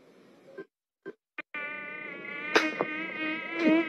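Mosquitoes buzz in a 1990s Indonesian TV commercial for mosquito repellent: a few short whines break in and out, then a close, steady, high-pitched drone carries on with small swells.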